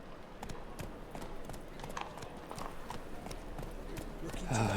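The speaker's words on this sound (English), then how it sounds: "Time to ride a horse around a city." Rhythmic clip-clop of horse hooves at a steady trot through a city in The Witcher 3: Wild Hunt, fairly close, with a louder burst of noise at the very end.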